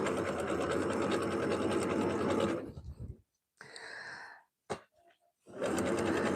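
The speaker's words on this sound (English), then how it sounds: "we're going to zigzag the Ric Rac on and pull out the needles as we go" A sewing machine zigzag-stitches ric rac trim onto a Christmas tea towel, running in a loud steady whir, stopping, then giving short bursts before whirring steadily again, close up.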